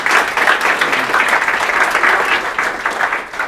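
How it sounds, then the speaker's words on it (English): Warm audience applause for a speaker at an evening design meetup, a steady, fairly close burst of many hands clapping without pause. "Give a warm round of applause for Krystal."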